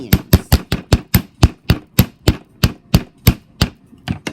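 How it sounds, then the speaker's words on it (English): A hammer strikes the ends of wire earrings flat on a metal block, about sixteen sharp, evenly spaced taps in a quick steady rhythm, close and loud with no talking. "we're going to take our block, and our hammer, and we're just going to simply hammer the ends."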